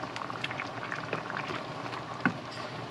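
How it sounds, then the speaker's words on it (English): Homemade chili simmering in a pot just after sauce is poured in and stirred, a soft continuous bubbling hiss with scattered small pops and one brief louder clack, fairly quiet and close with no talk. "Pour that in there. Give it a stir."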